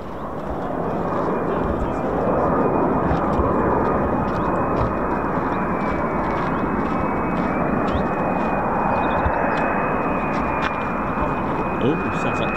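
A fixed-wing airplane coming in to land rumbles and drones continuously at moderate distance, with a steady high engine whine over the low roar, while people talk throughout.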